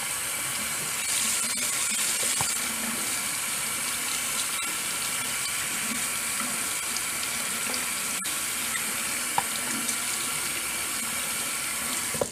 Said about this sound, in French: vous versez de l'eau très froide, enfin l'eau froide du robinet en elle-même